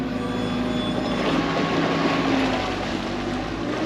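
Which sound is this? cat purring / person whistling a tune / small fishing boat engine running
small fishing boat engine running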